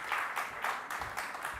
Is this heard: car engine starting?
no